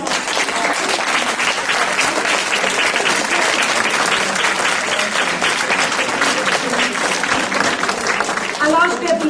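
An audience applauds women from Haiti and Congo at a French-speaking gathering, loud continuous clapping that fills the whole stretch with scattered voices mixed in.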